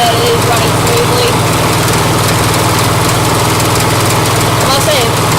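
A rebuilt lawn mower engine runs steadily at a constant idle-like pace, loud and close, with an even droning hum throughout and no talking over it.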